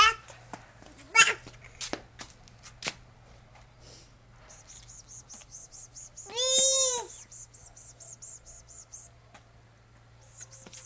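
A cat meows once, loud and drawn-out, near the middle, preceded by light handling noises and faint background sounds outdoors; no speech is heard.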